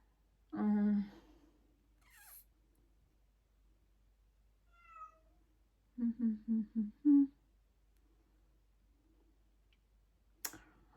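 A domestic cat meows for attention, one drawn-out meow early on, then a quick run of four or five short, close meows near the middle, with faint ticking and small clicks between them and no talk.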